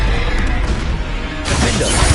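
Confringo fire spell blast from Hogwarts Legacy, a loud crashing burst that swells sharply partway through over a continuous rumbling combat bed.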